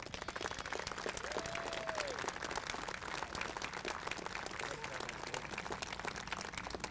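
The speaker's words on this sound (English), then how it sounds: "So a loud round of applause for all of them today." Outdoor crowd applauding at a Veterans Day ceremony in Mansfield, Massachusetts, a steady, moderately distant wash of clapping that holds through the whole stretch, with a brief tonal sweep partway in.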